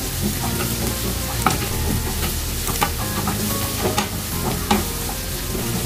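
Lots of garlic fries in butter or oil while being stirred, a close, continuous sizzle with scattered scraping clicks of the utensil, no talking.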